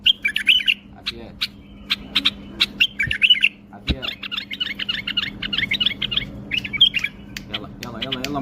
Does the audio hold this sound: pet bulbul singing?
yes